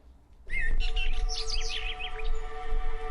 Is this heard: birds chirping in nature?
yes